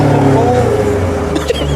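A 2017 Corvette Grand Sport idles in sport mode with its exhaust ports open, a deep, steady rumble close by with a brief blip near the end and a voice speaking over it.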